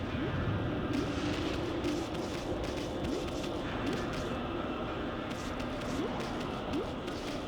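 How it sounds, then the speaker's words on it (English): Fireworks going off outside a window on July 2nd, heard as repeated sharp bangs and crackles at varying distances over a steady, dense background, with no voices. "expect to hear some amount of fireworks"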